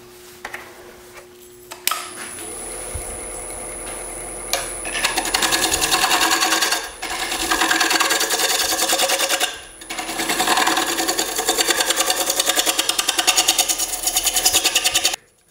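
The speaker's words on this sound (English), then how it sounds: "Now you have to be really careful with something like this spinning around on your lathe" A wood lathe spins a decorative display piece while a scraper cuts it, giving a loud, steady machine drone with rapid chattering. The sound cuts out briefly twice and then resumes, heard close up.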